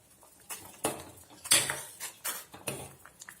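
A spoon stirs ginger lemon rasam in a pot with chilli and curry leaves just added, giving a few separate metallic scrapes and clinks against the pot, fairly close and moderately quiet, with no talking.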